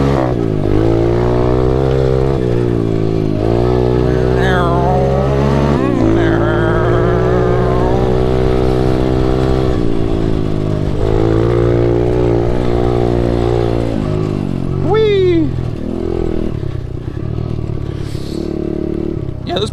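An SSR125 pit bike engine revs hard while being ridden, its buzzing note climbing and dropping through repeated throttle blips and gear changes, loud and close throughout.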